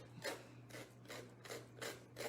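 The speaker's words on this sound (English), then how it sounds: "you're just sanding down where the edges of that paper was overlapping" Sanding the overlapping paper edges on a handmade farmhouse-style craft heart, a soft raspy rubbing repeated in six steady strokes, close and quiet with a faint hum beneath.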